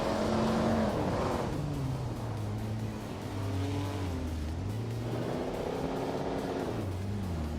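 Video-game race with vintage Maserati, Mercedes, Ferrari and Jaguar cars on a tight short track, several engines revving and shifting loudly and continuously close by, with pitch rising and falling as the cars accelerate and pass.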